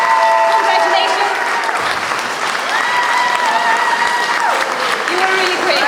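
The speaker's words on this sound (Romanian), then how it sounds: "Haideți să mai aplaudăm o dată, vă rog, din suflet, felicitări!" Concert audience in Huși, Romania, applauds loudly and continuously after the performance, a thick wash of clapping with voices and tones mingled in.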